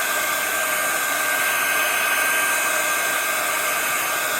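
A continuous, loud airy blowing hiss with a steady electric whine, like a hot-air tool running without pause.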